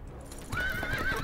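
A horse in a Game of Thrones video game gives a loud, close whinny with a wavering pitch. It rides over a dense rumble of hoof clops and scene ambience.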